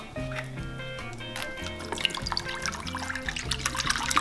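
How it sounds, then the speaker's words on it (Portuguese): Cold water running from a tap into a container holding gelatin sheets for soaking, a steady trickling and splashing fill with small drips, fairly close and moderately loud. "Vamos colocar num recipiente as 2 folhas e meia da gelatina em água fria a demolhar."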